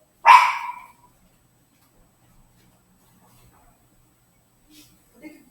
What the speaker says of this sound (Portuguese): É essa criatura que não para de latir